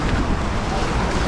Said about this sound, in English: This is where the waves get rough.